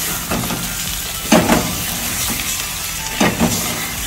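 Chicken pieces dropped into a hot pot of Sindhi biryani over a low flame, giving a steady sizzle and hiss with a few louder bursts of frying as the meat lands, close by and without talk.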